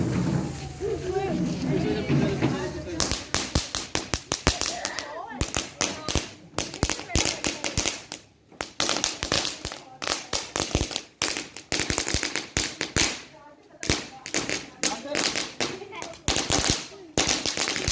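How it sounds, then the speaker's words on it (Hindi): After a moment of background noise, a string of 100 firecrackers bursts into rapid, irregular cracks and pops, crackling almost nonstop for about fifteen seconds, during Eid celebrations. "ये साहब वो 100 पटाखों वाला है"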